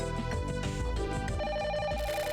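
An old-style telephone rings in the video game The Silver Case, repeated electronic ring pulses over game music, with no talking.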